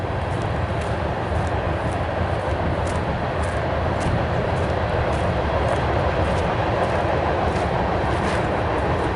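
Near a railroad crossing on a westbound trail in upstate New York, a passing train gives off a steady, dense rumble. It holds even and loud throughout, with no horn standing out.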